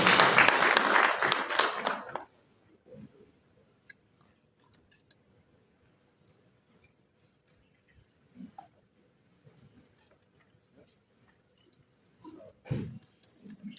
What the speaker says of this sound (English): A round of applause as he comes on stage